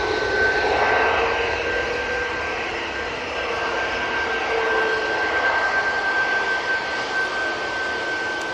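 Jet airliner passing at Manchester Airport, a sustained loud roar of engines that swells and eases over several seconds with a steady whine on top, heard from a plane-spotting position, no talk.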